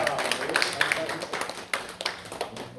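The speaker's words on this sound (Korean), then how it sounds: "또 박수 합시다" A church congregation claps in a quick, uneven patter of hand slaps mixed with voices talking over it, at a moderate level.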